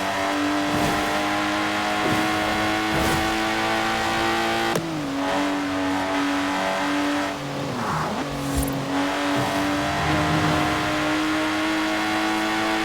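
Lotus Exige engine in Forza Horizon 4, a loud continuous drone that rises and falls as it revs through shifts, with brief tire squeal, no talk.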